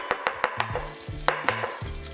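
A ramekin of chicken liver parfait is knocked down onto a kitchen counter, giving about six sharp, close thuds in an uneven rhythm, with quieter low knocks between them and no talking.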